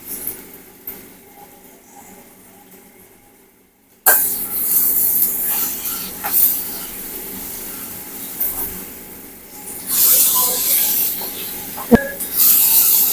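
Cut tomatoes and curry leaves hit a pan of frying onions for a prawn gravy; after a few quiet seconds a loud, bright sizzle bursts in and keeps hissing unevenly.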